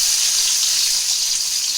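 Steady, bright hiss and crackle of crushed garlic frying in hot oil for fish curry, loud and close, continuous without pause.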